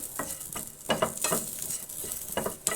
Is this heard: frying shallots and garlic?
yes